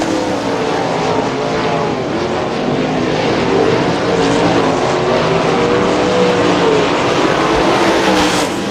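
410 sprint cars race on a dirt track at Butler Battlegrounds in Quincy, Michigan, engines screaming in a continuous loud, rising and falling roar as the pack passes close by.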